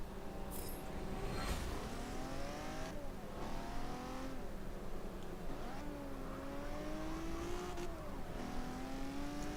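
Ferrari race car from Le Mans driven in Forza Motorsport 7, its engine steadily loud throughout, rising in pitch through each gear and dropping sharply at shifts, with revving climbs and a brief tire squeal near the start.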